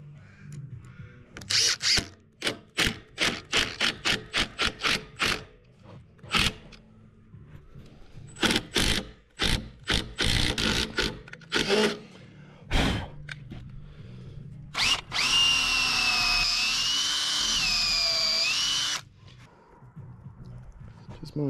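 A power driver sinks big landscape screws into a timber box beam on a passive solar house build. Many short loud bursts of the tool come in a rapid series, then a long steady whirring run, with talk in between.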